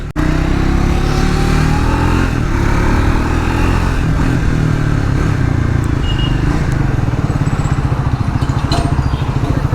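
A Triumph Speed 400 motorcycle engine drones loudly while riding, a steady throbbing roar with a slight rise in pitch early on, close and continuous, with wind noise and no talking.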